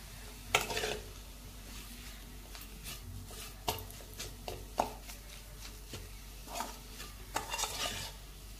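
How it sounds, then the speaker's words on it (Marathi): Besan flour for zunka being roasted in a pan, soft scraping and stirring with a spatula, scattered sharp taps against the metal, and a low faint sizzle underneath. "म्हणून हे पीठही थोडंसं परतून घ्यायचं आहे।"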